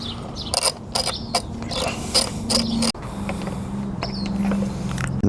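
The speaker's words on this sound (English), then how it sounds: "We're gonna take these 2, I'm gonna go ahead and assume they're 10mm because it's a Japanese bike, bolts off." Clicking ratchet and wrench work removing 10mm bolts from the ECU cover of a Honda CRF 300L motorcycle, bursts of rapid mechanical clicks over a low steady hum, close and moderately loud.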